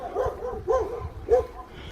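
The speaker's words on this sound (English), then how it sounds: "the highlight are dogs chasing after us" Dogs bark at passing cyclists on a rural road in France, sounding three quick, close barks over the background noise of riding.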